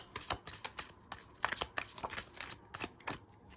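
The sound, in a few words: tarot cards being shuffled and drawn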